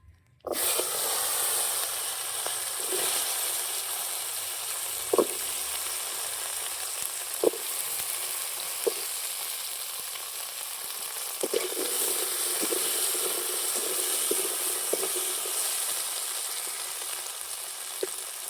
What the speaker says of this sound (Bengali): এবার আমরা কচুগুলো হালকা করে ভেজে নেব